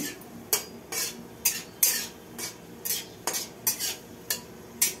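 Mustard seeds spluttering in hot oil with a dried red chilli while tempering for mango jam: a dozen sharp, bright pops and crackles burst at irregular intervals over a low background hiss, close and without speech.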